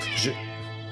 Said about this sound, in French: on finit sur un miaulement de Jumbo